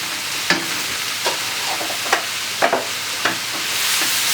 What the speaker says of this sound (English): Give it a little bit of flavor by just adding some butter inside of it.